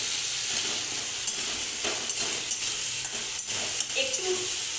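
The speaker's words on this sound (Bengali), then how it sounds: "আমি জাস্ট এটা তেলের ওপরে নিয়ে একটু লাল লাল করে ফ্রাই করে নেব" Two bay leaves and spices fry in hot oil in a pan, a bright continuous sizzle with a string of light clicks and scrapes from stirring, close and steady, with no talking.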